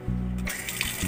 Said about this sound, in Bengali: তাই এইভাবে বালিটিকে খুব ভালো করে জলে ধুয়ে নিতে হবে